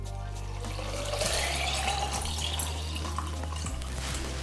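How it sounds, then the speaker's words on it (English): Water runs steadily into a blender, a continuous close pouring rush with a low electrical hum underneath. "fill it up with some water"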